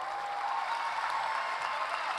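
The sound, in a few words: applause at a graduation ceremony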